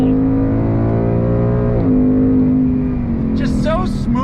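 A 2022 Ford Mustang GT in Eruption Green revs hard under full acceleration, its engine note climbing steadily, then dipping sharply at a gear shift near two seconds and pulling on loud and close; a voice talks briefly near the end.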